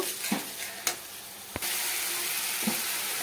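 Garlic paste frying lightly with onions in a pan gives a soft sizzle broken by a few stirring clacks, then turns into a louder, even hiss partway through.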